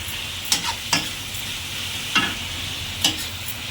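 Capsicum being stir-fried with onion in a pan for chow mein, a soft steady sizzle broken by a few sharp scraping clacks of a spatula, close by with no talk.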